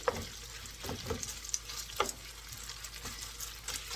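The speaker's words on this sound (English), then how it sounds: "We're gonna stir fry the beef for a couple of minutes" Raw, cold beef stir-fried in a hot pan for rainbow beef, with a steady sizzling hiss broken by rhythmic scraping and tossing strokes roughly every second, close and fairly quiet.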